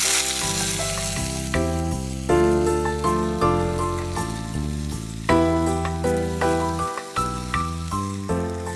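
Onion paste with a pinch of salt frying in a hot pan for a goat curry, giving a steady close sizzle and spatter under continuous background music.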